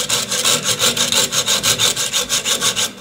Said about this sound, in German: Ich säge diesen Kontaktwinkel ab.